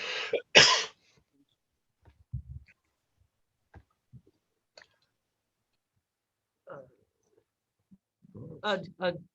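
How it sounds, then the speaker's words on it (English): A sharp sneeze bursts out near the start of an online school board committee meeting, followed by scattered faint clicks and small noises, then a brief murmur of voices at the end. "Somebody was sneezing."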